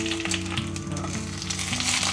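An egg frying in a hot pan, its edges searing, gives a loud, steady, crackling sizzle that fills the whole stretch without a break.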